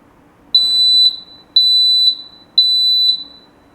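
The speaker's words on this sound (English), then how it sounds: "Just press the test button on your device." A smoke detector sounds during a test: three loud, piercing high-pitched beeps, each lasting about half a second, spaced evenly about a second apart, close up with no talking.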